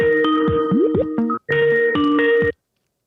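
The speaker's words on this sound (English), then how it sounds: "I'm going to call you on WhatsApp." A WhatsApp call ringtone plays loud and close, a repeating melodic chime pattern in two bursts separated by a brief gap, then stopping abruptly.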